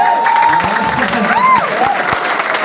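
Audience applause at a live speaking event, a steady wash of clapping with crowd noise and a few whistle-like cheers rising above it, sustained at moderate volume throughout.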